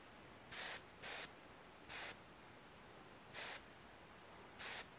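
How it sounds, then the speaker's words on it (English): Airbrush spraying paint onto a model dog from about 8 to 10 inches away, heard as five short hissing bursts of roughly half a second each, separated by quiet pauses. "Now I'm a good 8 to 10 inches away from the subject with the airbrush."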